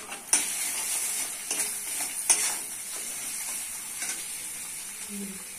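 Onion and spices such as turmeric, chili and cumin sautéing in a pan, a soft steady sizzle with a few sharp scraping stirs of a spoon against the pan.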